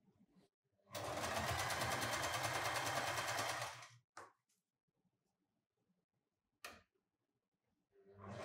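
A sewing machine stitches around a churidar neckline at a quarter-inch seam, running in one loud, steady, rapid burst of about three seconds, followed by a few brief clicks and near silence.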